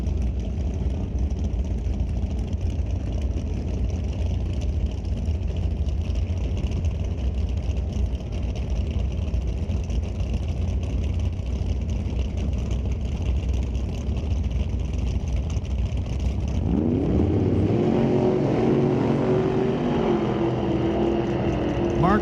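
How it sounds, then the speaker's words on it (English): A 1967 Chevy Nova and a 1954 Studebaker idle loudly side by side at an old-time drag race. Near the end, the engines rise sharply into a rough, climbing roar as the cars launch. "and green Mean Machine in the Tower Lane, 1967 Chevy Nova, driven by Craig Fredrickson."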